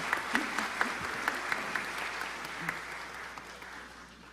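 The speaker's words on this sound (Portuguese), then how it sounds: "Eu pedi uma salva de palmas para o pastor João Rodrigues" Applause at a legislative honor ceremony in São Paulo, a crowd clapping steadily with a few louder individual claps popping out, moderately loud and continuous.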